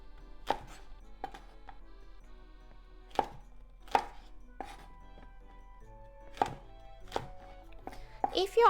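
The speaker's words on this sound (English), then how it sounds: "let's cut each okra into 3 diagonally" A knife chops okra diagonally into pieces on a cutting board, giving about a dozen sharp, isolated knocks spaced irregularly in a quiet kitchen, close and clear with no talking.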